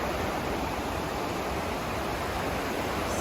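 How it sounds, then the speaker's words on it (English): The flooded Chattooga River roars in a dense, continuous rush of churning whitewater that sounds close and loud with no pauses. "The wild and scenic Chattooga River is raging."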